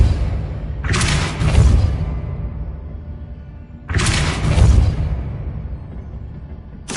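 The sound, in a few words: Repulso spell cast in Hogwarts Legacy video game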